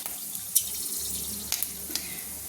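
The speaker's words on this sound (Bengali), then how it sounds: "দেখুন এবার দিয়ে দিলাম আমি যে তেঁতুলের জলটা রেখেছিলাম সেটা কিন্তু আমি দিয়ে দিলাম" Tamarind water poured into hot oil tempered with five-spice and whole dried red chillies, a soft steady watery pour and sizzle running throughout at low level, with a few brief sharper splashes.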